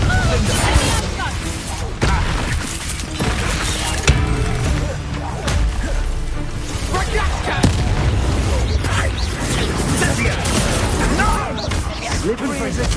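Spell explosions booming and crashing in the wizarding video game Hogwarts Legacy during a duel, repeated loud impacts and bursts under a dense, continuous mix of combat noise and speaking voices.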